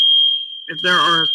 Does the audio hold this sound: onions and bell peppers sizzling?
no